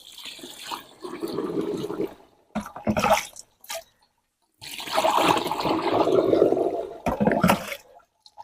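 Liquid poured into a battery-powered garden sprayer for tomato plants comes as bursts of gurgling, splashing flow separated by brief silences, close and fairly loud with no talking.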